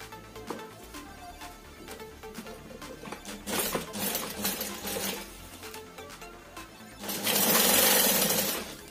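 A sewing machine stitches a strap onto a handmade shoulder bag, with bursts of rattling motor noise rising to a louder run near the end.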